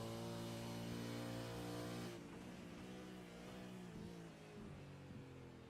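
A V8 Supercar racing in the 2024 championship, heard onboard as it brakes into a corner: a loud, steady engine drone with strong harmonics drops abruptly to a lower, rougher note as the driver lifts off and slows.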